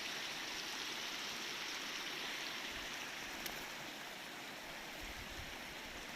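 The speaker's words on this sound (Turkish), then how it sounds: "küçük bir su akıyor" A small stream of water flows outdoors in a steady, faint, continuous rushing trickle with no voices, near a rural village road by a river.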